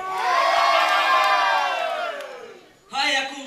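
A crowd at a Romanian New Year's well-wishing chant shouts loudly together in a long, sustained cheer that fades out. A second burst of shouting follows.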